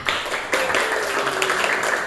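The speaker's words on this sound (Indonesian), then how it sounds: "Kasih tepuk tangan." Students in a classroom clap for the best-performing group, a short burst of scattered hand claps with some voices mixed in.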